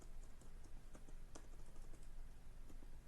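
Quiet, rapid keystrokes on a computer keyboard as Java code is typed, a steady run of light clicks with a few sharper taps, close and alone.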